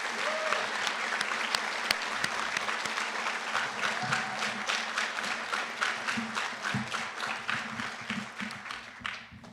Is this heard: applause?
yes